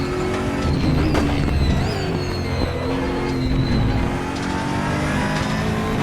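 Aquila CR1 race car lapping Portimao in RaceRoom, its engine droning and revving loudly and continuously with a steady mechanical whine, shifting pitch through corners and over curbs.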